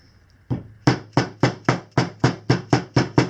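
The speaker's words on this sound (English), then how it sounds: "some quick taps with a hammer" A steady series of sharp metallic hammer taps, about three per second, close and loud, with no talking, as a bearing is tapped into a BMW F650GS sprocket hub.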